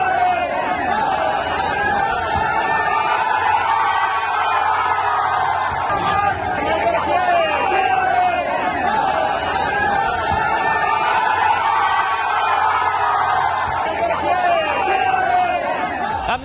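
A large crowd at an Owaisi election rally in Bihar fills the air with dense, continuous chatter and babble, with occasional faint cheers rising from the steady roar.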